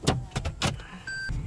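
A Yandex taxi car in Vladivostok pulls away, with a few short bursts of mechanical noise and then a steady high whine, close and fairly quiet.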